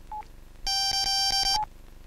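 Telephone keypad tones: a single short beep, then about a second of rapid DTMF dialing tones pulsing in quick succession on a phone, close and clear with no talking.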